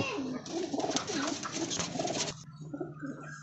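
A parwazi flying-breed pigeon coos in a close, rolling series of throaty notes, loud at first and then quieter after a short handling noise.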